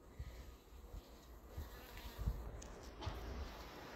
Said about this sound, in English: Those bees are good for us because the plums at this time of year needs bees.